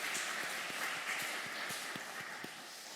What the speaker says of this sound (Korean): 우리 축복하고 격려하는 박수 하도록